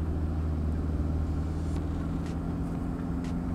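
A Toyota Hilux SRX with a 2.8 turbo diesel accelerates hard in Power mode, heard from inside the cab as a steady, droning engine rumble with a low, continuous hum and no talking.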